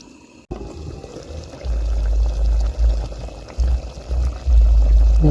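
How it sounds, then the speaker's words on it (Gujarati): Water poured over chicken curry in a pan, a steady rushing pour with sizzling bursts that swell and surge, loud and close, with no talking. "આની ઉપર આપણે રેડી દઈશું પાણી."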